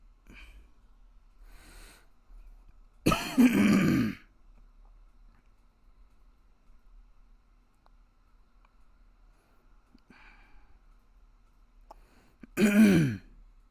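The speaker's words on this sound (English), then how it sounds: "Now I'm coughing." A person alone clears their throat in two harsh, raspy bursts spaced well apart, with a faint sniff and quieter throat noises in between against near silence.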